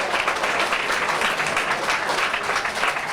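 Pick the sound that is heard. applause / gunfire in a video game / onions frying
applause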